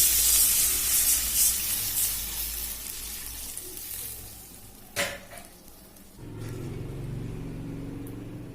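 Water poured into a hot cooking pan in a home kitchen as a potato dish is cooked, a loud burst of hissing and sizzling that settles into a steady simmering bubble.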